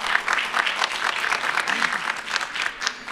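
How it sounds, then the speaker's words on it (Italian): An audience applauds at a press conference for the 39th Torino Film Festival. The clapping is steady and moderately loud, with many hands across the room throughout. "facciamo un applauso magari per Lucy."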